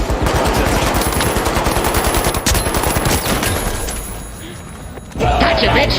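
Sustained automatic gunfire in a first-person shooter video game, a loud rapid rattle of shots hammering steadily for several seconds before cutting off abruptly, with a short burst of different game sound afterward.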